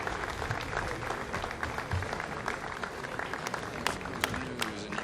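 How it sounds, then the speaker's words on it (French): Thunderous applause fills the room at Jupiter launch control for an Ariane 5 flight carrying GSAT-11 and GEO-KOMPSAT-2A, a dense, sustained clapping with scattered cheers from the gathered audience. "vous avez entendu le tonnerre d'applaudissements de l'assistance ici à Jupiter"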